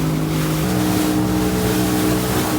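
A fishing boat motors home under a steady, loud engine drone with a constant low rumble and no pauses.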